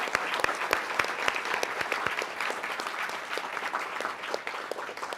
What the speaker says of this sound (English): one more big round of applause for our finalists today